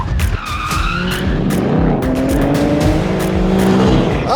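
A BMW M4 drifts on command, its rear tires squealing in long sliding wails over a loud revving engine, close and continuous with no talk.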